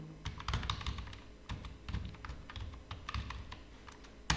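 Rapid typing on a computer keyboard during Tally Prime data entry, with close, crisp key taps in uneven bursts and a few louder keystrokes, no talking.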